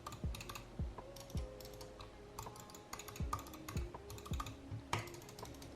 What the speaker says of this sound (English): I kind of just want to like show off the clicking of the G Pro.